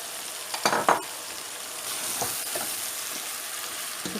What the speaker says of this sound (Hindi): अब इसके अंदर हम डालने वाले हैं बैंगन।